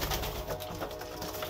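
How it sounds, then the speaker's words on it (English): Pigeons in a breeding loft coo steadily at close range, a continuous soft murmur of several birds over a noisy, rustling background with no talking. "Getting ready to feed my pigeons here in the breeding loft."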